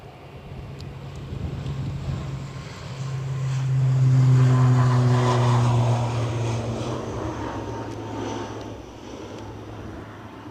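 ATR turboprop airliner taking off at windy Edinburgh Airport: propeller drone with steady low tones swells to a peak mid-clip and then fades, mixed with gusting wind noise.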